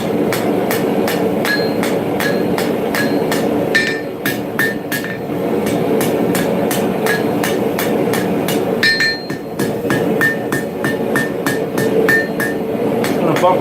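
Steady hammer blows on a hot steel bar at the forge, upsetting and flattening its end: a long run of sharp, ringing metallic strikes in an even rhythm, close and loud, with brief pauses between bursts.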